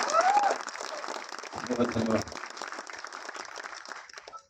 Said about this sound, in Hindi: थोड़ी दमदार तालियां बजा दें